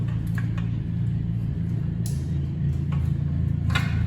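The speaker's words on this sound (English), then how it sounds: "as you can see and hear, the compressor's running" A steady low motor hum and drone fills the space, an air compressor running continuously near a 1.5JZ VVT-i Mk3 project car in a garage, with a few faint clicks and light knocks over the constant rumble.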